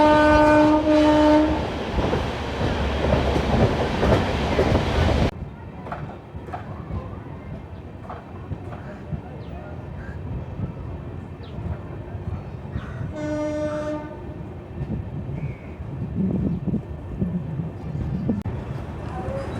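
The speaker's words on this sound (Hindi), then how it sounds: "देख लीजिए पहली बार थावे में पहुंच रही है हमारी अमृत भारत एक्सप्रेस" Amrit Bharat Express from Delhi pulling into Thawe station, its horn sounding loud and sustained at first, then a steady rumble and clatter of passing wagons with a second brief horn blast midway.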